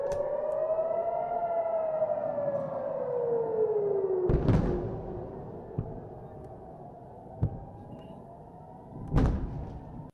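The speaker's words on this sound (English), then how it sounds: "hear this siren going off" A wailing air raid siren slowly falls in pitch, steady and distant, while several heavy booms thud in the background as Iron Dome intercepts.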